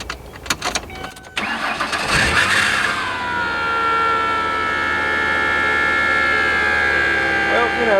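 A well-used car engine cranks and catches with a few rough bursts, then settles into a loud, steady idle with a whining, uneven undertone, in a garage.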